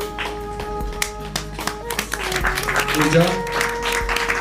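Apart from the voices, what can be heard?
audience applause at a prize distribution ceremony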